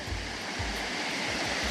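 Rushing water pours steadily over the top of Raven Cliff Falls into a small river cove, a loud, constant roar that fills the whole moment with no voices.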